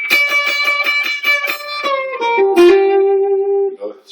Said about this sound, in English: It's a choke bend.